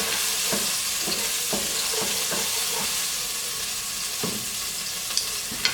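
Garlic frying in a pan with steady, loud sizzling and hissing, punctuated by regular light clicks and scrapes of stirring, with no voices.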